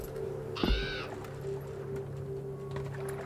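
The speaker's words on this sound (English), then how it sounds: "Bird again?" A single harsh crow caw rings out briefly in the Assassin's Creed Valhalla video game, over a low ambient game hum and soft wind.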